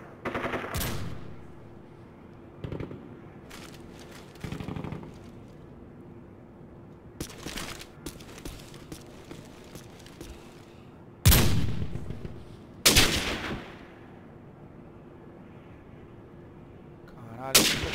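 Sharp bursts of Call of Duty 4: Modern Warfare gunfire and explosive blasts ring out in irregular clusters over a quiet backdrop, some loud and close, others more distant.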